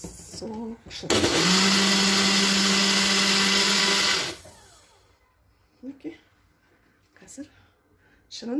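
A blender roars steadily for about three seconds while mixing a green smoothie of water, lettuce, mint and grapes, cutting off sharply, then a voice speaks briefly in the quiet after.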